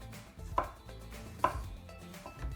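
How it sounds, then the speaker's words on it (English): Knife slicing a tomato on a cutting board, a few soft, separate chopping knocks close by at an unhurried pace, faint and with no talking. "So again, I'm gonna cut slices one way,"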